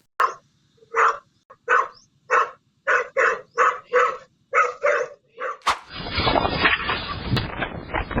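A dog barks at a snake, firing a quick string of about a dozen loud, close, sharp barks. A burst of rough, broadband rustling and scuffling follows at the end.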